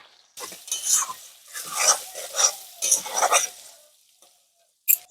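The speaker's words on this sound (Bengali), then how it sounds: "এখানে আমি আলুগুলো লাল লাল করে ভেজে নিয়েছি" Potatoes seasoned with salt and turmeric fry in a pan, giving irregular bursts of sizzling and stirring that stop and start, with a short sharp scrape near the end and no talk.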